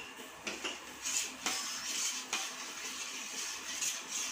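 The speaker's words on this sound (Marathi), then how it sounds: "थोडंसं मीठ घालूया आणि मिक्स करून घ्यायचं." A spoon stirs khapli (emmer) wheat kheer in a pot, making repeated clinks and scrapes against the metal in a steady, close mix with no talking.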